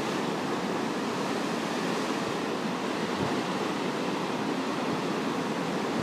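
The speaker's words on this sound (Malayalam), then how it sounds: "കടൽ കരയിൽ കിടക്കുന്ന കല്ലുകളിൽ വന്ന് തട്ടി ചിതറിപ്പോവുകയാണ്." Waves from the Arabian Sea at Kollam break against stones on the shore, making a dense, continuous roar of surf that stays steady and loud throughout, with no voices.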